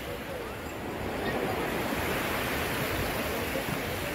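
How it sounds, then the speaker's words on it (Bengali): Sea waves break at Digha beach in a loud, continuous roar of surf that swells slightly and never lets up, with no talk over it. "জাস্ট দেখো ঢেউগুলো।"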